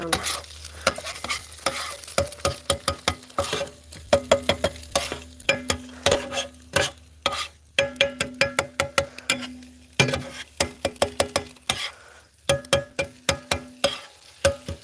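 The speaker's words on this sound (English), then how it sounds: "let's stir this up before it cooks too much" Scrambled eggs sizzling in a pan at a campsite brunch, stirred with a utensil that scrapes and taps the pan in quick irregular bursts over a low steady sizzle, close and without talk.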